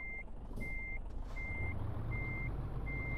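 Truck reversing alarm in Euro Truck Simulator 2: a steady, evenly spaced series of five high electronic beeps over a low engine rumble.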